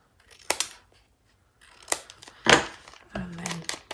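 Small scissors trimming the top and bottom off a glassine bag: a few sharp separate snips with crisp paper crinkle between them, close and fairly loud.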